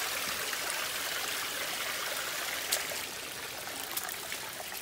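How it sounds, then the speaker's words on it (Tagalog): A stream at Ping Nam in Hong Kong rushes steadily past, a dense continuous hiss of flowing water with no pauses and no voices. "Oh, may tubig dito."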